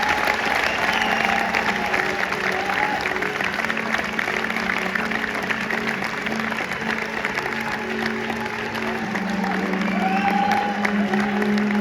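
A large audience of about 750 at a stuttering eloquence contest gives a sustained, dense round of applause to welcome the speaker Mohamed, steady and loud from start to finish, with a few voices mixed into the clapping.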